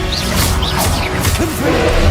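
A Confringo fire spell blast in Hogwarts Legacy: loud, close whooshing casts with whistling, swooping tones, ending in crashing, thudding impacts, all game effects with no talk.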